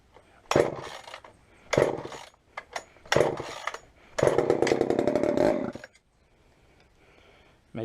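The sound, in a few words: Poulan chainsaw being started and run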